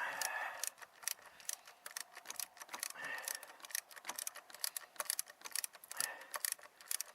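Bolts being tightened back onto the power steering pump of a 2002 Chevy Malibu: a close, steady run of quick metallic ratchet clicks and ticks, some louder than others, with no voices.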